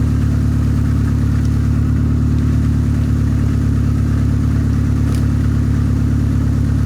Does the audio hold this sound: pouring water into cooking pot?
no